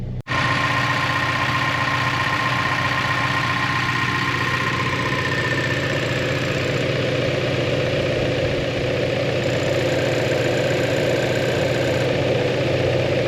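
A 2025 Toyota 4Runner TRD Pro engine runs steadily near idle, a loud close hum with a constant low drone, a faint rising whine early on and no talking.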